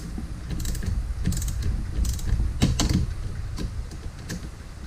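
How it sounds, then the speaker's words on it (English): Spark plug wrench on a 16 mm nut of a 2017 Porsche Macan, used as a makeshift tool during rear shock removal, giving a run of close metallic clicks and ratcheting taps over a low mechanical rumble. "I jury rigged me a Porsche wrench here. Using a 5/8 inch. Let's see, 5/8 inch spark plug wrench."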